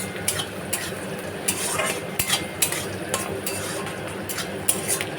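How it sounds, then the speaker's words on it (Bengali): Onion and green chili frying in hot white cooking oil with a steady sizzle, while a utensil stirs and clinks against the pan at irregular intervals, close and fairly loud, with no talking. "এখানে পেঁয়াজটা ফোড়ন দিয়ে লঙ্কা দিয়ে ভেজে নিচ্ছি"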